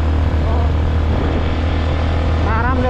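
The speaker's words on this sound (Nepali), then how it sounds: "यो पाहाडको बाटोको लागि त बुलेटै ठिक हो है" A Royal Enfield Bullet motorcycle climbs a steep mountain road, its engine giving a loud, steady drone that holds throughout, with a muffled voice briefly rising near the end.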